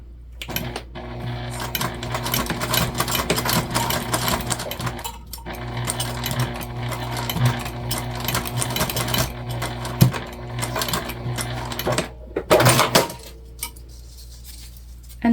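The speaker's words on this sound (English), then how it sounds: "then we're going to sew together per the seam allowance in the pattern." A sewing machine runs steadily while stitching a seam on a mini backpack, with a continuous mechanical whir, brief pauses and a few light clinks and clicks near the end.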